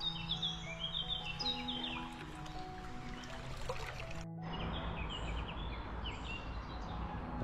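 Birds call around a flooded lake with trees standing in the water, scattered chirps and short whistled phrases, faint and distant over a soft background hush, with a brief gap midway.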